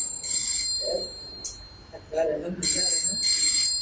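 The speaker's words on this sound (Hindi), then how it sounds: "सुबह सुबह किसका फोन?" A phone rings in repeated electronic trill bursts, with a voice speaking briefly between the rings.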